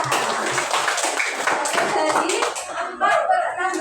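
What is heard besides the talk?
class applauding for a student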